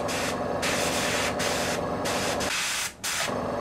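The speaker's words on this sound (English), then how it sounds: "Spray through our mask" Bursts of hissing spray paint from a can through a mask onto a miniature, several short blasts close by with a brief pause near the end.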